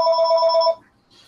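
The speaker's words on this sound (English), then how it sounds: "we're just gonna wait till this phone at my house stops ringing" A home telephone rings loudly and close with a single electronic warbling trill that stops abruptly, followed by near silence.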